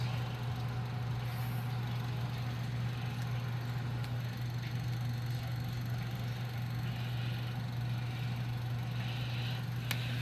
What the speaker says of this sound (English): you can see the fan still spinning through the grate